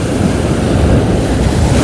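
A big ocean wave crashes on the Mirya shore in Konkan, near a lighthouse and fort, as a loud, close, broadband wash of surf mixed with wind rush, filling the whole short moment without any voice.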